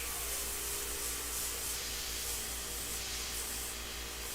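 Airbrush spraying India ink, a soft, steady hiss that runs continuously and fairly quietly with no voices.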